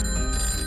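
A telephone rings with a steady, bright electronic bell tone, filling the short moment without any voices.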